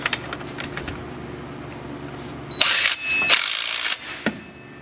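Power tool tightening the front brake caliper bolts on a Polaris Sportsman 500 ATV during a rotor and brake pad job, heard as two short close bursts separated by a brief pause.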